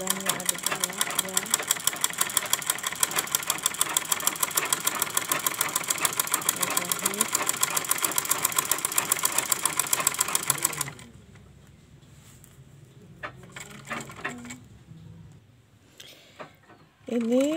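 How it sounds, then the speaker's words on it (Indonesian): A sewing machine stitches fabric, likely straps, while a top is remade into a long dress, running in a fast steady rattle for about eleven seconds before stopping, followed by quieter handling sounds and brief talk. "Kita bikin tali dulu ya, kita jahit dulu."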